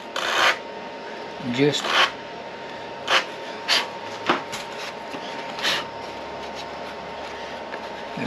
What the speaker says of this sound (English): So just get a piece of sandpaper block